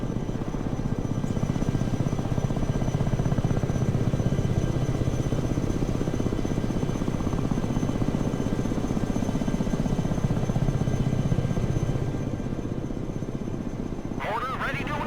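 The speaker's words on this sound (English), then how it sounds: "Tiltrotor aircraft here." Tiltrotor aircraft in the strategy game Broken Arrow, a loud, steady rotor drone and engine hum held throughout at close range, with radio-style voice chatter over it.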